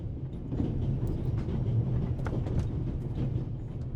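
The Orient Express train from The Raven Remastered runs along with a steady low rumble and faint rhythmic clatter, continuous and even, with no voices.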